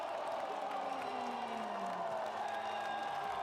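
A home crowd at a Monterey Bay F.C. soccer match against Rio Grande Valley FC cheers a goal as a steady, distant roar of voices that holds for the whole stretch.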